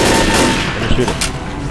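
Rapid gunfire in the zombie shooter Left 4 Dead rattles loud and close, a dense burst of shots overlapping with brief voices.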